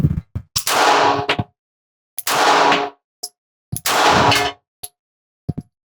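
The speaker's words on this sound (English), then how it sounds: "Put 1 hit on the pistol tree with the Hellcat." Springfield Hellcat RDP pistol fired at an outdoor steel target: three loud shots, each followed by a ringing metallic clang that decays over about a second, with brief sharp ticks between them.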